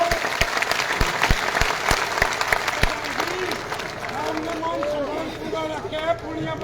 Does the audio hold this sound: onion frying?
no